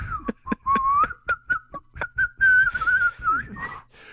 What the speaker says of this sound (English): whistling Dixie.